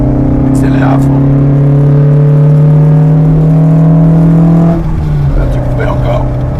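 A 1955 Alpine A110 Berlinette engine held at full throttle, a loud, close, steady rising drone that drops briefly as if shifting, then carries on with strong engine noise throughout.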